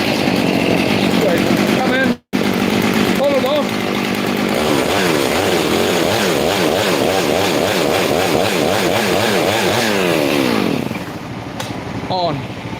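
Chainsaw running in a New Zealand winter setting, a loud, close engine drone that rises and falls in pitch as it revs, with a brief cut near the start and tapering off at the end.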